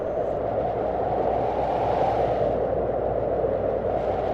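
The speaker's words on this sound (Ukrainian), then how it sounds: "Правильно, це шум вітру" Autumn wind blows in a constant, loud, rushing roar with a slight swell midway and no pauses.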